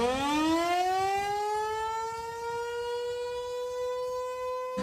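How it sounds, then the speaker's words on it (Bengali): A civil defense warning siren wails in Israel, its tone rising at the start and then holding a loud, steady sustained pitch, alone and without voices. "সতর্কতামূলক সাইরেন।"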